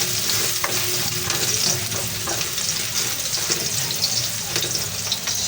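Garlic hitting hot cooking oil for a liver and gizzard caldereta, a steady close sizzle and crackle with scattered stirring clicks, continuous and fairly loud.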